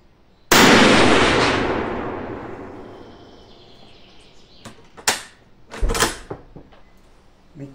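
A Mauser rifle chambered in .300 Savage fires at a 200 metre range. One sharp, loud report rings out with a long decaying echo, followed by a few fainter clacks and a second short bang.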